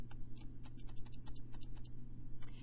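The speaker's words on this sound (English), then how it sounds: "And I'm going to type in a, b, and c." Quick, light keystrokes on a calculator or keyboard as quadratic coefficients are entered into a program, a close, irregular run of soft taps with short pauses between them.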